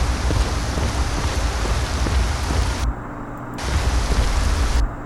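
Steady rain pours in Skyrim, a dense broadband hiss that holds throughout, briefly thinning near the middle before returning at full strength.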